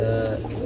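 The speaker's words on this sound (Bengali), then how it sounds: "তবে এটা হচ্ছে বডি রেট শার্টিং কবুতর, ফুল রানিং ডিম বাচ্চা করানো" A domestic pigeon at a pigeon sale gives a short, close coo, a single low throaty call that sounds clearly over faint background noise.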